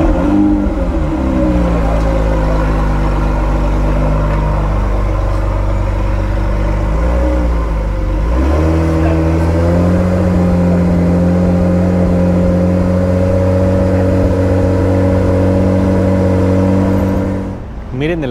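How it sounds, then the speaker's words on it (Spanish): A Lamborghini Gallardo pulls up at an exotic car meet in Mexico, its engine droning loud and close with sustained revving and a change in pitch midway, tuned to sound like a Huracán STO. "Miren el Lamborghini Gallardo que va llegando, haciendo una simulación del Huracán STO."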